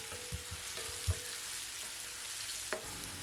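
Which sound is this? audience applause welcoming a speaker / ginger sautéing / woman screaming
ginger sautéing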